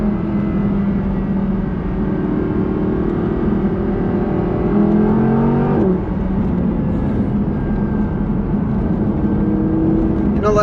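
Audi R8 5.2 V10 Plus engine droning loudly and steadily from inside the car, its pitch climbing and shifting as the revs change, with a smooth continuous whine throughout.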